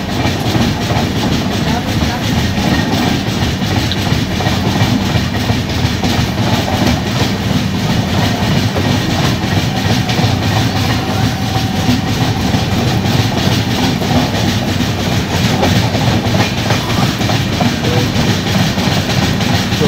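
Poorva Express train running at speed while overtaking the Amrapali Express, with a steady, loud wheel rumble and a clickety-clack rhythm that continues throughout, heard from on board.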